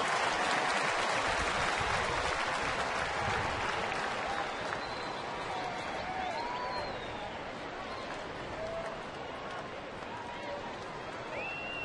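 Crowd in a baseball stadium, Rangers hosting the Yankees, applauding and cheering for the pitcher Neftali Feliz; dense, sustained clapping and roar fill the whole stretch with occasional whistles, while an announcer talks over it.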